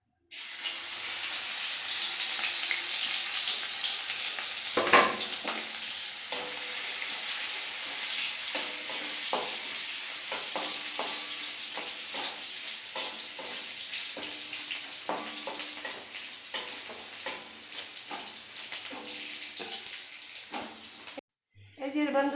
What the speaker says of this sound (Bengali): রসুনটা লাল হয়ে গেছে, ভাজা হয়ে গেছে